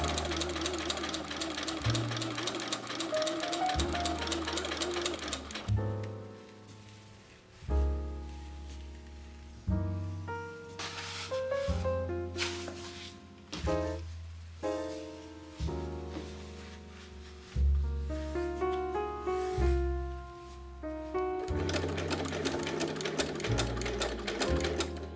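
Sewing machine stitching through layered corset fabric in a steampunk build, running in several bursts of rapid mechanical clatter separated by brief stops, close and clear.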